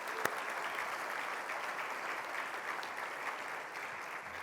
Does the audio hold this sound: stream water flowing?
no